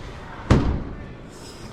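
A car door on a BYD electric sedan slams shut once with a loud, close, solid thud, then the space falls quiet.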